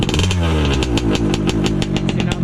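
A flooded, over-fuelled Taylor big bore engine fitted with a WJ carburettor runs unevenly and lumpy at close range, its loud irregular firing pulses wavering throughout with no talking.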